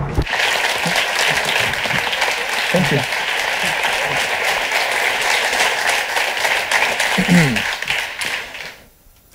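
Loud, sustained audience applause fills a talk hall in Spain, steady dense clapping throughout before fading at the end, with someone briefly speaking over it.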